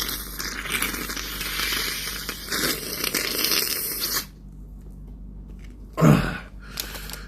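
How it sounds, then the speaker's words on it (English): A man blows his nose: one short, loud, wet honk near the end, close to the microphone, followed by a faint sniffling rustle. Noisy handling sounds come before it. "I gotta blow my nose."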